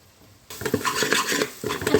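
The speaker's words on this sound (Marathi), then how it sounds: "आता हे वाटण आपण चांगले हलवून घेऊ." Spice paste of turmeric and red chilli powder stirred in a pot for sweet-sour tamarind jaggery dal, a spoon scraping and clinking against the metal in a steady burst after a brief silent start.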